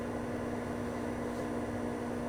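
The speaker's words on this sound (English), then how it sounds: "it's already in a microwave safe measuring cup, so I'm just gonna put it in the microwave" Microwave oven running steadily while heating cream in a microwave-safe measuring cup, a constant near hum with a strong tonal drone and no break in level.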